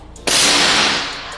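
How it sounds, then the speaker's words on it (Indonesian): A single sharp PCP air rifle shot fires close and loud, a sudden crack and hiss that decays over about a second, with quiet before it. "Kita coba tembakan yang ketiga."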